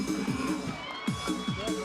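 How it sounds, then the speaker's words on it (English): A boxing crowd at a live event cheering wildly, a dense roar of shouts and whoops that swells in repeated surges, loud and close throughout. "The crowd are really going wild for Lisa."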